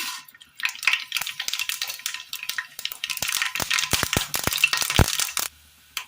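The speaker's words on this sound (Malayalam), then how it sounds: "കടുക് പൊട്ടിയതിന് ശേഷം" Mustard seeds crackle and pop in hot oil, a dense spattering that builds and stays busy before cutting off near the end.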